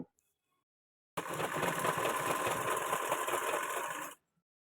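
A sewing machine runs steadily for about three seconds, stitching a strip straight along the right side of a blouse, a close, continuous mechanical whir that starts and stops abruptly with quiet before and after.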